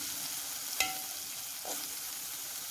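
Sausages frying in a pan for a cheesy omelet, a steady close sizzle with a couple of brief utensil clinks and stirs.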